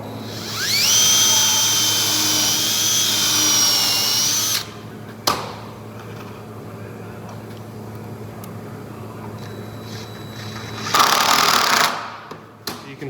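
A power driver whines loudly for a few seconds while it drives a screw into a table-top chain conveyor. Quieter workshop clatter follows, then a second short burst of driving.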